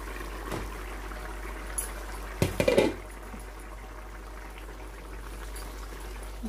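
Water is poured into a pan of green bean and potato curry: a short splashing pour stands out over a steady background hiss and low hum, with faint clatter before it.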